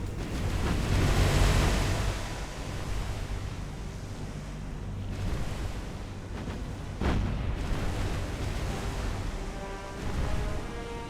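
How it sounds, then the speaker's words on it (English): Naval gunfire in the War on the Sea video game, with shells from a ship's battery firing at the heavy cruiser Takao, rumbles as a low, steady barrage with sharper booms around the midpoint, heard over wind and surf noise without speech. "That's a lot of shells going in for this Takao."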